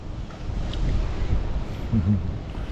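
Outdoor wind blows steadily in cold weather, a broad rumbling gust noise buffeting the microphone throughout, with faint background voices mixed in.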